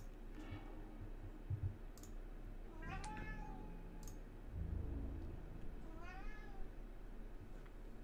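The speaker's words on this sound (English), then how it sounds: "We got a grumpy kitty over here." A grumpy cat lets out several short, strained meows spaced across the moment, fairly faint over a quiet room hum with occasional light clicks nearby.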